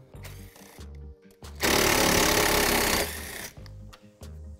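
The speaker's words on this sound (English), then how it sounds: "And now we have to remove these screws." Power tool driving out bumper cover screws on a 2018-2022 Mustang GT, with short stuttering buzzes followed by a loud sustained whine of about a second and a half and then more brief bursts.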